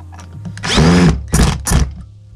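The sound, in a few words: power drill with clutch driving a screw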